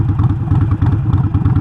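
A baffle-less motorcycle engine warms up with a loud, continuous, rough low rumble. A rapid, uneven beat runs through it, and it sounds close.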